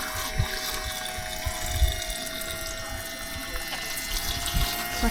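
Water pump running steadily at a bush camp in Mana Pools, Zimbabwe, filling 40-litre drinking water tanks; a continuous hum and rush of flowing water with faint background voices and occasional knocks.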